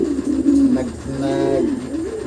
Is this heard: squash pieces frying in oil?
no